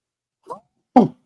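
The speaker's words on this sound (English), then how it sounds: "Wow, what a sneeze." A man sneezes indoors: a short soft intake followed a moment later by a single sharp, close burst, then silence.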